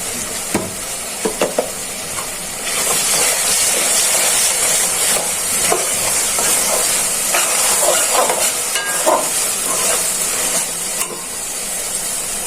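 Onion sizzling and frying in a pan as garlic paste and ginger paste go in, a steady close hiss of hot oil with occasional stirring scrapes and clinks, no voices.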